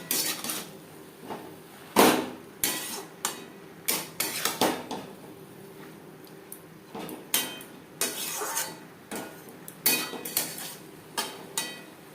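Prawns, spices and elephant foot yam stalks being stirred in a pan: irregular metallic scrapes and clanks of a utensil against cookware, in uneven bursts with brief pauses, close and fairly loud.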